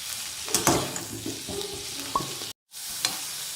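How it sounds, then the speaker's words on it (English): Bhaji milagai chillies frying in a pan, a soft sizzle broken by a few sharp clinks and scrapes of stirring, close by, with a brief dropout near the end. "now Bhaji Milagai is getting cooked"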